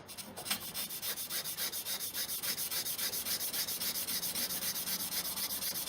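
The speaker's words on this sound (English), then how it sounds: "I'm going to carefully start a gouge, going with the grain" A gouge cutting along the grain of soft yucca wood, rhythmic scraping strokes repeating quickly and evenly, close and moderately loud with no talk.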